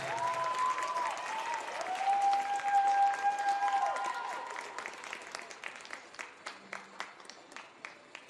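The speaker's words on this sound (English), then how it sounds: "Let's have one round of applause for our 5 seniors." A crowd at a college sports event, A&T Caldwell versus East Stroudsburg, applauds five graduating seniors. Loud clapping with whistles and cheers gradually thins to a few scattered, evenly spaced individual claps.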